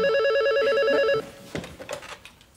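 A telephone rings with a warbling electronic trill for just over a second, then cuts off, followed by faint handling clicks as the receiver is picked up, in an indoor scene of a French comedy series.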